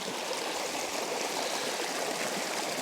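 Stream water flows over slippery stones in a steady, broadband rushing wash that stays constant and fairly loud throughout, close by and with no voices.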